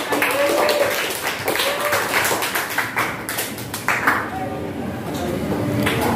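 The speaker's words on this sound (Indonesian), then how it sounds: "tepuk tangan untuk teman kalian" Classroom students clapping for classmates after a group presentation in an Indonesian Islamic education lesson: a brief round of scattered claps mixed with chatter and a teacher's voice over a noisy room.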